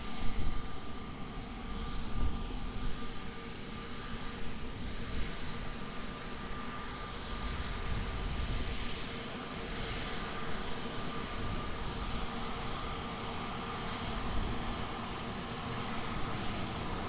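A plane taking off from runway 20 at Lisbon Airport gives a steady, loud broadband engine roar that holds evenly throughout, with no voices.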